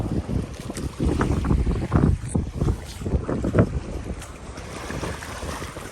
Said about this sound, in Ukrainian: Вітер такий прилічний.